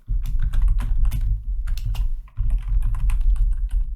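Rapid clattering keystrokes on a computer keyboard while JavaScript code is typed, a dense irregular run of clicks with a brief pause midway, close and fairly loud with no talking.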